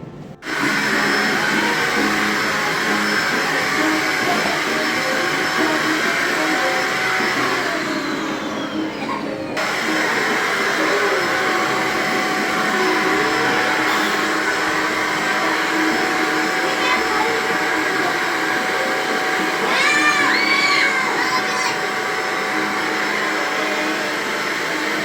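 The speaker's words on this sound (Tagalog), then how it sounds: "nag-vacuum ng mga display namin kasi nga sobrang daming mga balahibo" A vacuum cleaner runs steadily at moderate loudness for the whole stretch, clearing pet hair off household displays indoors, with a brief dip near the middle and faint voices in the background.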